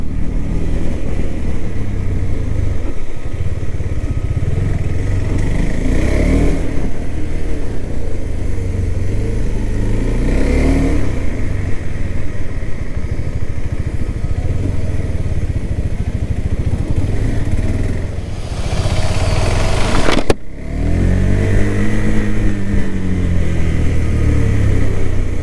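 A 2021 KTM RC 200 motorcycle engine runs steadily and loudly throughout on a race track, with a brief dip and rev change partway through, as if heard while riding.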